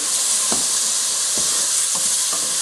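Jalapeno and cilantro paste frying in a pan on medium heat, a continuous bright sizzle with a few soft stirring scrapes spaced through it.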